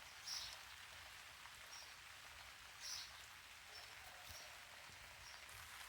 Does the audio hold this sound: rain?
yes